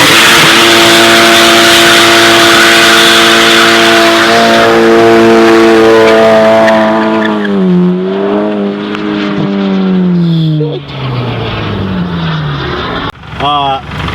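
A high-torque car doing a tire burnout, its engine revving loud and close with a strong harmonic roar that holds, then sweeps down as the revs drop and fade, with people talking over it.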